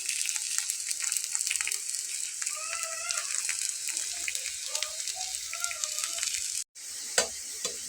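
Potato and red lentil snacks fry in a pan brushed with a little oil, producing a steady close crackling sizzle with scattered pops and a brief clatter near the end.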